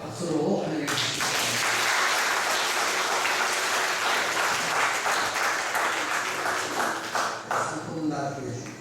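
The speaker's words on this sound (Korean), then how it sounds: "박수로 환영해 주십시오." Audience applause fills a church-run disciple college graduation ceremony, a dense, steady wash of clapping that starts abruptly after a brief pause and carries on loud for several seconds before thinning slightly at the end.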